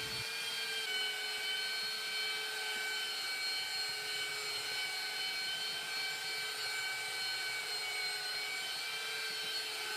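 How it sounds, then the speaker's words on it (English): A belt sander runs steadily on wood for a cutting board, a constant loud whirring drone with a high, even whine that holds unchanged for the whole stretch. "I also took my belt sander to it"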